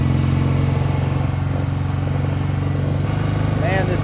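A 1967 BSA Spitfire Mk III motorcycle runs underway with a loud, steady throbbing twin-engine drone close by, holding a constant pitch throughout, with a voice speaking over it near the end.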